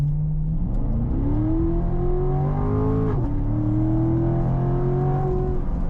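Corvette C7 Stingray accelerating hard, engine pitch climbing steadily through a gear, a brief dip at a shift, then rising again, loud and close with no talk.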